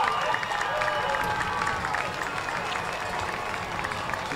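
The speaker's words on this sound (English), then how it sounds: "as the crowd goes wild." A high school football stadium crowd roars steadily as the Bastrop Bears take the field, a dense wash of cheering, applause and whistles sustained throughout at moderate distance.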